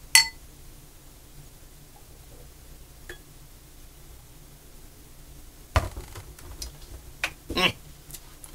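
Beer glasses touch in a toast, a few sharp glassy clinks scattered over a quiet room, the brightest ones near the end, with faint background movement.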